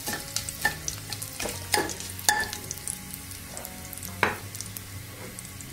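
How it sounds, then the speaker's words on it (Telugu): Curry leaves added to a tempering of mustard seeds, cumin and chillies in hot oil, giving a soft continuous sizzle with intermittent crackles and occasional spatula clinks against the pan. "తాలింపు వేగాక కొద్దిగా కరివేపాకు కూడా వేసేసుకోండి."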